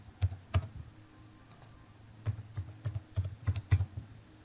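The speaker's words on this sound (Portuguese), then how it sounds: "eu vou digitar a senha aqui" Password being typed on a computer keyboard: scattered soft key clicks, some in quick pairs and clusters, close and quiet, alone without talk.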